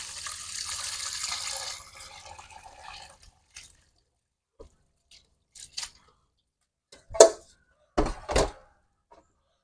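Soaked rice vermicelli noodles are drained, water pouring steadily for about two seconds before trailing off into scattered drips and a few louder splashes, close by in a quiet kitchen.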